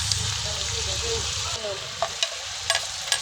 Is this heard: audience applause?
no